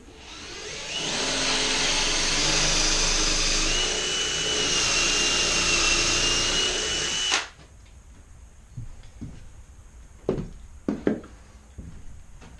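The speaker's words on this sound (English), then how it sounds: "I'm going to go ahead and drill these holes in each end of the long boards" A power drill bores dowel holes in oak boards through a dowel jig, a loud close sustained whine for about seven seconds that stops abruptly, followed by a few scattered knocks and handling clunks.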